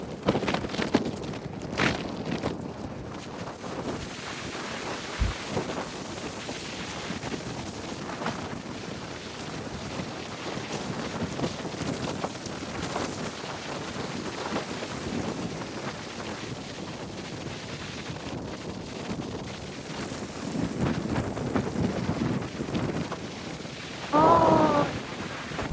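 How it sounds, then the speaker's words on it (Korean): Strong wind buffets the microphone on a Jeju Island coast during a snowstorm with gale-force winds, with a continuous roar of crashing ocean surf underneath and a few faint voices. "파도 저렇게 크다"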